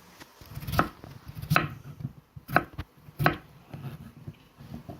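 Knife strokes chopping potatoes on a board for plov, four sharp, evenly spaced thuds close by, with soft scraping and kitchen noise between them.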